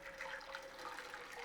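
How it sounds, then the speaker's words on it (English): Boiling water is poured into a pan while making fondant icing, a faint, steady trickling splash that runs continuously for a moment with no talking. "I'm going to put the boiling water in this pan,"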